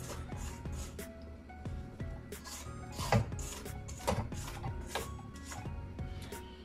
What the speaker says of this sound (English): we're going to scrape again before we add our dry ingredients